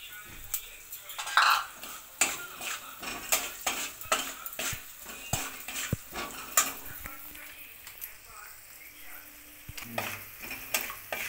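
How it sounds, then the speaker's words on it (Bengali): Sesame seeds stirred into a potato snack in a hot pan give a close, busy crackle, with repeated spoon scrapes and metal clinks against the pan over a constant low sizzle. "এবার তিলটা দিয়ে আমি সামান্য একটুখানি নাড়বো।"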